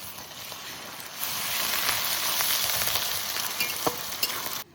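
Ginger garlic paste hits hot oil with onions in a pan, bursting into a loud, dense sizzle that holds steady with a few crackles and stirring scrapes, close up, then cuts off abruptly, with no talking.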